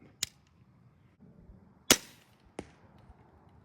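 A BearX Impact crossbow with a Vortex Crossfire scope fires, giving three sharp, close snaps spaced apart over quiet outdoor background, the middle one loudest.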